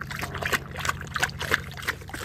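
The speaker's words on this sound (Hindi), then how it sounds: "पानी पी रहा है।" A Rottweiler laps water after high-jump training, giving quick wet slurping splashes in a steady rhythm, close and fairly loud over a low background hum.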